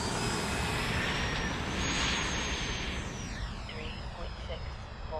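An E-flite Viper 70mm electric ducted-fan RC jet takes off with a click of flaps, its high whine steady and loud throughout, rising slightly in pitch as it climbs away over broadband rushing noise.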